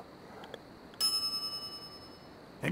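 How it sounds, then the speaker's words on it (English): A shop counter bell in The Secret of Monkey Island Special Edition gets a single bright ring with a long, shimmering decay against a quiet game background, then a second strike starts just at the end. "some idiot's already ringing that stupid bell"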